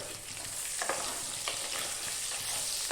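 Small onions sautéing in oil for a fried chicken dish, a continuous hissing sizzle broken by several scraping stirs, close and alone with no talk.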